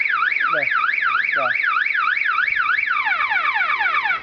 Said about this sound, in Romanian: Un singur fel de alarmă are?